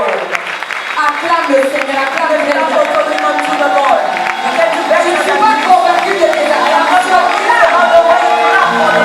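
A congregation at a Christian women's conference cheers and shouts praise together, a continuous mass of overlapping voices with scattered clapping, loud and close throughout.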